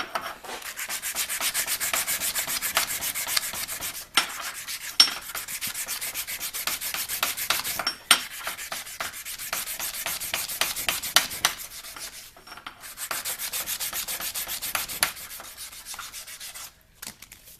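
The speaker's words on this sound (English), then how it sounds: "now I'm going to take a leftover piece of sandpaper and straighten out the grain a little bit" Steady back-and-forth rubbing of a scrap of sandpaper over a welded steel table leg, a close, dry scratchy rasp in continuous strokes with brief pauses and no talk.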